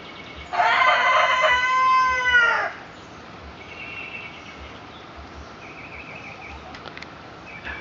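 A Black Australorp rooster crows once, a long, loud, harmonic call of about two seconds, then quieter background sounds with faint chirps follow.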